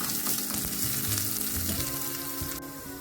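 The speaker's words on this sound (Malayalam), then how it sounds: "എണ്ണ ഒഴിച്ച് കുറച്ച് കടുക് പൊട്ടിയതിന് ശേഷം ഉള്ളി ചേർക്കുക" Oil sizzles and crackles steadily throughout as mustard seeds and onion fry, close and continuous, with soft background music playing underneath.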